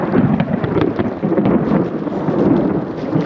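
Deep rolling thunder rumbles continuously through a monsoon storm, loud and broad, with rain hissing underneath and no voices.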